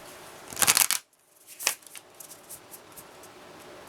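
Playing cards shuffled by hand, a loud riffling burst followed by a pause and then a shorter slap and softer flutters, close and without talk.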